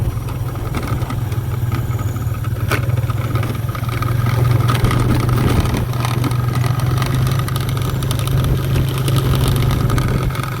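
A motorcycle engine runs steadily and loudly at a constant low rumble while riding on a rough road, with a slight rise in intensity partway through.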